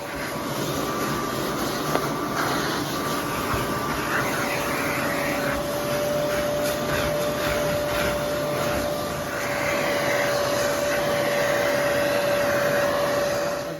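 Bissell TurboClean Pet XL carpet cleaner working over carpeted stairs, a steady loud motorized whine and suction roar with a sustained tone, continuous for the whole stretch with no talking.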